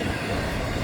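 A Florida East Coast Railway freight train rolls past in a steady, dense rumble of railcars, close and loud with no break across the short stretch.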